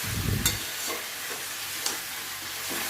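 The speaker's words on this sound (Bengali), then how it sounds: "আবারও কষিয়ে নিচ্ছি। মাংস যত কষাবো ততই মাংস খেতে ভালো লাগবে।" Meat being sautéed and stirred in a pan with oil for a Sunday lunch curry, a steady close sizzle broken by a few scraping stirs, with no talking.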